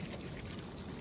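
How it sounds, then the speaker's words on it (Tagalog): Running water pours steadily into a resort pool at a farm resort in Zapanta, Antipolo, a continuous broadband wash up close with no break. "Ayan o, running water yan."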